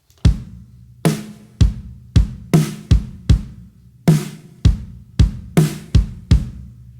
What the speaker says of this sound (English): Now the basic kick and snare pattern goes like this.